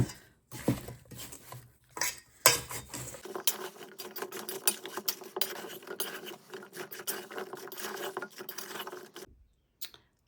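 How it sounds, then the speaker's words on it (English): Apples are tossed with cornstarch and cinnamon in a bowl, a busy run of clattering, scraping and tapping of a utensil against the dish that continues steadily for several seconds before stopping. "you're just going to mix this together so that cornstarch gets all over the apples and the cinnamon and all the yummies."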